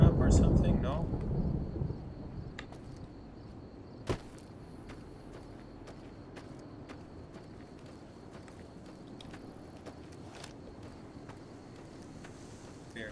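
Thunder rolls loudly at the start of a stormy night in the video game Fallout: New Vegas, then fades into a quiet ambient bed with a sharp click midway.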